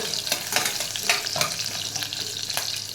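Onions fry over a medium flame in a pan for paneer pulao, producing a continuous crackling sizzle with scattered stirring scrapes.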